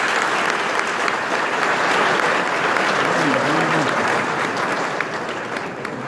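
Loud, dense applause from a large audience for a university rector at Alioune Diop University of Bambey, continuous and close, with a voice briefly audible beneath the clapping.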